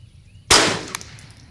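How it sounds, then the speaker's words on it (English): A single sharp shot from a Bergara BXR carbon .22 rifle with an 8X scope, fired with precision .22 ammunition: a loud, abrupt crack with a short decaying tail outdoors, no talking. "Okay, last shot."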